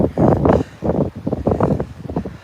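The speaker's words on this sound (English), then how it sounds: "Sorry about the wind." Wind buffets an outdoor microphone in uneven, rumbling gusts that rise and fall over a few seconds, fairly loud and close, with no clear talk.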